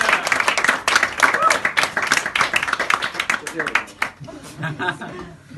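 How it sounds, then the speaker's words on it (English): Audience applause at a live stand-up comedy show in Budapest: a burst of brisk crowd clapping mixed with cheers and some chuckles, strong at first and then thinning out into scattered claps. "Big round of applause for all your other acts tonight."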